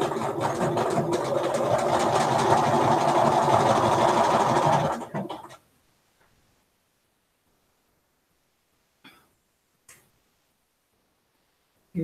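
Sewing machine stitching small quilt pieces for a Dear Jane quilt block, a steady close rapid mechanical whir for about five seconds, then stopping, followed by near silence with a few faint clicks.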